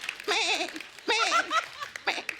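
A voice mimics a goat's wavering bleat in two or three close, loud, quavering bursts, like a goat caught in a kite's beak, with comic stage energy.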